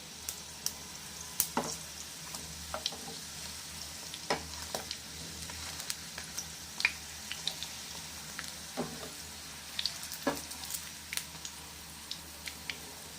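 Banana snack pieces shallow-frying in oil, a steady soft sizzle with scattered faint pops and crackles throughout, close but fairly quiet, no voices.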